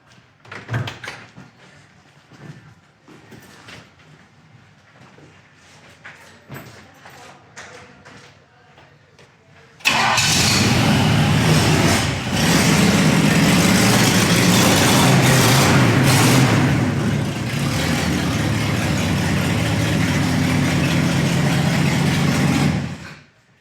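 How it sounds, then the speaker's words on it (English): A 1967 Pontiac Firebird with dual exhaust fires up after quiet handling noises, its engine catching abruptly and settling into a loud, steady idle that holds until the end. "Fires right up, sounds nice, dual exhaust."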